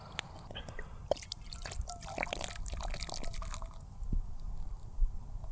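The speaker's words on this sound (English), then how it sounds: "I'm gonna pop these open and pour them in my deep skillet here and get it over the fire" Beer poured from opened cans into a deep skillet over a campfire splashes and drips in quick, irregular bursts that ease off near the end, close and moderately loud, with no speech.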